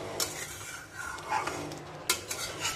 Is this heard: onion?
yes